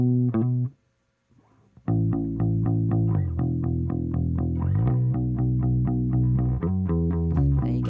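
A bass guitar played through an amp and captured by a large diaphragm condenser mic gives a deep, full tone: a few plucked notes, a short pause, then a steady run of repeated notes with sustained low body.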